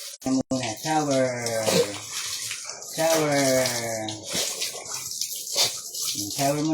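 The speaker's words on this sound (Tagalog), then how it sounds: "Shower muna, shower." Shower water runs steadily and fairly loudly at close range beneath a person talking throughout.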